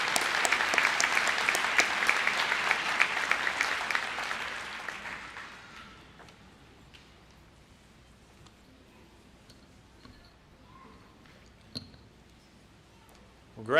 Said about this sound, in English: Let's have a round of applause for all our county award winners.